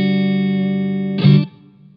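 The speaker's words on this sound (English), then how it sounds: "I personally like a slightly bigger reverb" Electric guitar through a Blackstar Silverline amp's larger reverb setting: a sustained, sustained chord rings loud and steady, then a brighter strum bursts briefly before a spacious reverb tail decays.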